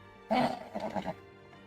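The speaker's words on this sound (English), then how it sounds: "The horse sniff." A horse sound effect played in a casino setting: one loud, breathy snort burst followed by a quicker, quieter fluttering trail, brief and isolated.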